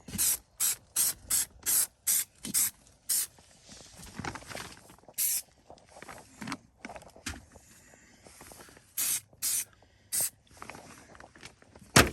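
3M spray adhesive is sprayed onto an underbelly patch beneath a mobile home in many short hissing bursts, close by: a rapid run of quick sprays, a pause with softer hiss, then another cluster of bursts.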